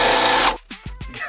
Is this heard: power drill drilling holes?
yes